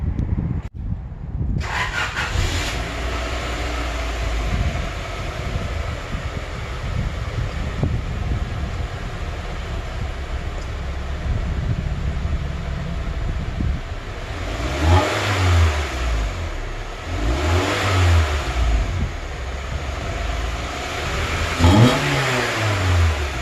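A 2001 Honda Prelude with an aftermarket Yonaka axle-back exhaust, stock muffler removed, starts up and idles loudly, then gives several sharp revs that rise and fall close by.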